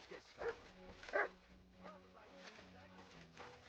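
A dog in the medieval video game Kingdom Come Deliverance 2 gives two quick, faint barks or yips early on, over a low steady background hum.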